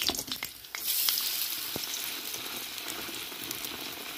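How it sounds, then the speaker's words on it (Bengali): Gram-flour-coated bread pakora sizzles in hot oil, a steady, fairly quiet frying hiss with a few soft crackles and stirring sounds near the start. "এবার তেলটা গরম হয়ে গেছে, এবার তেলের মধ্যে বেসনের এই পাউরুটিটা দিয়ে দেবো।"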